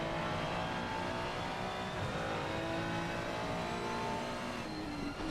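GT3 race cars lapping Mount Panorama in the rain in Assetto Corsa Competizione, with a steady engine drone and shifting pitch as they chase a Ferrari. The sound is continuous and fairly faint, with no talk over it.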